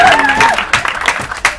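Wedding guests at a groom's speech break into a short burst of clapping, mixed with a little crowd noise, whoops and laughter, with scattered louder claps near the end.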